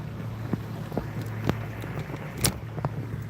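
A lawnmower engine drones in the distance outdoors by the water on a fishing outing, a low steady hum mixed with wind noise and a few soft knocks and bumps nearby.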